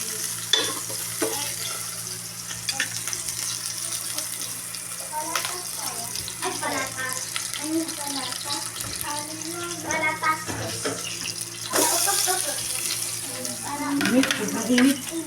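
Lunch frying in a pan with continuous sizzling and repeated scraping and stirring strokes, loud and close, with faint voices in the background.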